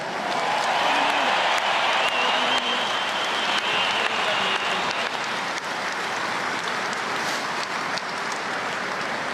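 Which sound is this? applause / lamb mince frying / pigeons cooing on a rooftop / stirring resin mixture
applause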